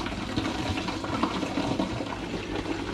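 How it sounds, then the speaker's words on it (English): Blackcurrant wine pours steadily through a coffee filter and funnel into a bottle, giving a continuous close trickle and splash of liquid that lasts throughout with no talk. "And it looks nice and clear as I'm pouring it like that."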